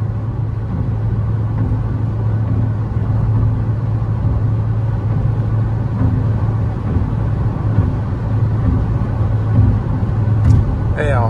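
A 2021 Fiat Cronos Precision 1.8 with a six-speed automatic cruises along a highway. Inside the cabin there is a steady low rumble of road and engine noise, with no distinct joint thumps standing out.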